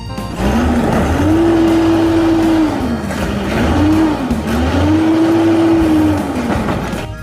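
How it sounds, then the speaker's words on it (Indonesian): A loud garbage truck sound effect: a wavering motor whine that climbs, holds and dips twice over a steady low engine rumble, close and continuous. "Wah, yang ini truk sampah teman-teman."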